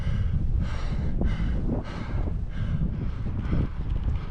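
Steady wind roars and buffets against a cyclist slowly climbing Pikes Peak, a 14,000-foot Colorado mountain, as a continuous loud rush with gusty swells and faint breathing underneath.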